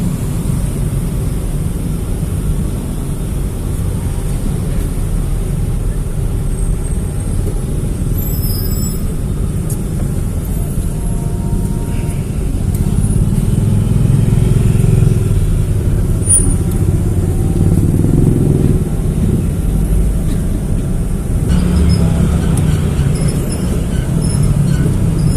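Heavy vehicle traffic rumbles on a busy Jakarta road toward Cibubur, a dense, continuous low drone of engines that swells midway, heard from close by and without talk.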